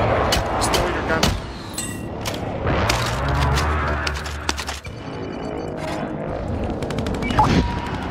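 Gunfire in the video game Warzone, bursts of shots and booms mixed with game effects, loud and close, with players talking over the action.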